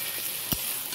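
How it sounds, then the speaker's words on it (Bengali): Potatoes fried with light turmeric and spices are stirred in a hot pan, a single short scrape over a steady, close sizzle. "এই মশলার সঙ্গে ভালো করে আমি নেড়ে চেড়ে নেব"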